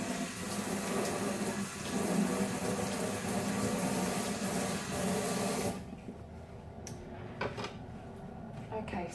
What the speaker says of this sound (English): I'm just going to quickly wash my knife.